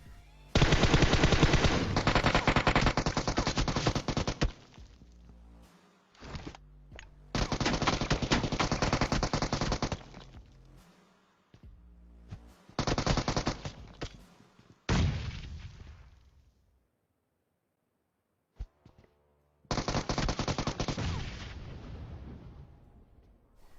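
Bursts of automatic gunfire in the video game PUBG Mobile, loud rapid rattling volleys in several long strings separated by short pauses, with a single sharp shot in the quiet gap, no talking.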